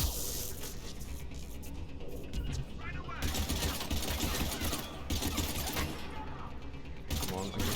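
Turret gunfire in Mass Effect 3 rattles almost continuously in rapid, mechanical bursts, loud and close, over a cluttered combat mix with brief pauses between volleys and voices talking over it.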